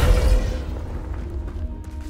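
A Descendo spell lands in the Hogwarts Legacy video game as a deep booming slam, heavy at first and then fading out over a couple of seconds, with no talk.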